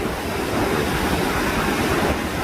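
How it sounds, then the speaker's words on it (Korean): Rough sea swell breaks against a breakwater at Geoje, Korea, a loud, continuous rushing wash of surf with wind noise on the microphone and no speech. "파도가 너울이 좀 심해서"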